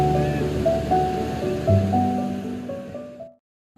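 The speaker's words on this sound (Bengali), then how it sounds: "সমুদ্রের এই গর্জনটার মধ্যে একটা আলাদাই উন্মাদনা আছে" Sea waves roar and wash onto Puri beach, a steady loud surf with surges and a swelling crash before fading out, with no voices.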